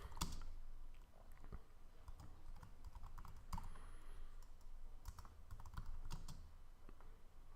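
Rapid clicking of computer keys as a SQL script is typed out, a busy, irregular patter of keystrokes with a few louder taps, steady and close throughout with no talking.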